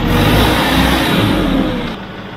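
A Deutz-Fahr 6130 TTV tractor engine runs close by with a loud, steady rumble that eases slightly near the end, with no voices.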